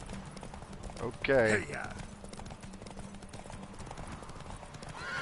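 Horse hooves clip-clop at a gallop in The Witcher 3 video game, a steady rhythmic patter under game music, with a voice and a brief loud shout over it.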